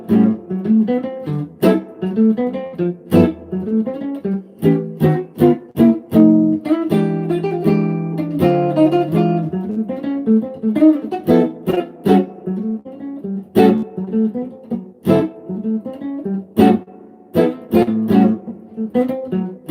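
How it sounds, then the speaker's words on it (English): An electric guitar plays a blues in A with punchy block chords, in sharp rhythmic stabs and short runs separated by brief gaps, close and loud, with no voice over it. "It's basically a blues using block chords."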